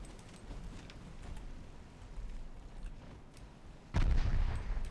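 Naval gunfire in the Ultimate Admiral Dreadnoughts game: scattered distant booms over a low rumble, then a louder heavy impact near the end.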